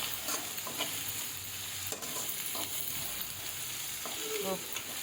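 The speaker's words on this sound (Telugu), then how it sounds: "బఠానీ క్యాప్సికమ్ లేదా అల్లం ముక్కలు మంచిగా వేయిపోయిన తర్వాత" Green peas, capsicum and ginger pieces fry and sizzle in a pan with steady, continuous crackling, broken by a few soft scrapes of stirring; no one speaks.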